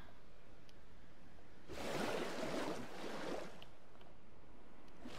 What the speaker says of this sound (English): And then we're going to add some water